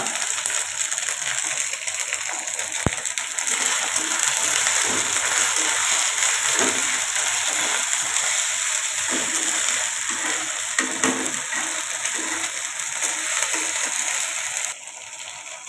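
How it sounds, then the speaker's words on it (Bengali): A garlic, cumin and ginger paste fries in a pan for meat curry, giving a continuous close sizzle and bubbling hiss with faint stirring scrapes now and then. The sizzle drops slightly in the final moments. "আমি এই আদা রসুনটাকে একটু ভেজে নেব, কাঁচা গন্ধটা চলে না যাওয়া পর্যন্ত"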